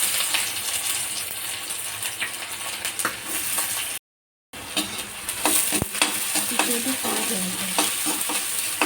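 Onions dropped into hot oil in a pan and sautéed, a loud, dense sizzle and crackle with a brief dropout partway through, then spoon scrapes and stirring over the continuing fry, close and steady, with no talking.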